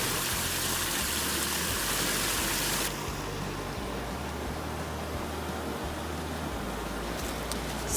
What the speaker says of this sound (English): it actually brings you right next to Haw Creek